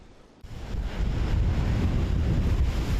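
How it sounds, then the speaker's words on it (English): Ocean waves crash against a seawall in a sudden heavy surge that turns into a dense, continuous roar of surf and wind, loud and close, with no talking. "these waves just started crashing over the seawalls"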